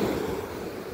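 Sea water washes at the shore in a steady, soft rushing wash with some wind noise, moderately faint and without talking.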